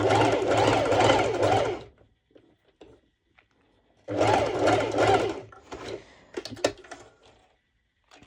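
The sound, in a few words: sewing machine sewing pole dance bottoms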